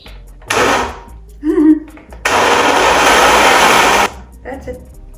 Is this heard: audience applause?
no